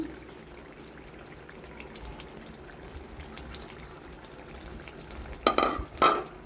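Beef bhuna cooks in a covered pot over medium heat, giving a steady low simmer and sizzle. Near the end come two brief, sharper clanks like a lid or utensil.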